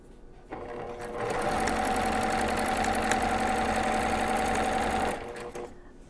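A sewing machine stitches jelly roll quilt strips end to end in a steady, continuous whirring run of about four seconds. It ramps up from quieter handling noise and then winds down, close by with no voices.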